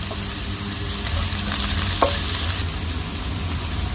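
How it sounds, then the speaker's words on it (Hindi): Onions frying with cinnamon sticks in a pan, a continuous close sizzle with soft stirring scrapes and one brief clink partway through, no voices. "प्याज इसमें हमने दालचीनी की डंडियाँ डाल दी, इसको हम फ्राई कर लेंगे।"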